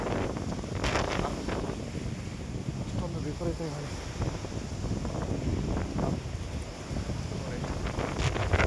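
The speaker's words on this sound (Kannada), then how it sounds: "ಯಾಕೆಂದರೆ ಅಷ್ಟೊಂದು ವಿಪರೀತ ಗಾಳಿ." Strong wind at the Kotebetta Shiva temple buffets the microphone in loud, rumbling gusts that never let up, with a voice faintly audible beneath the roar.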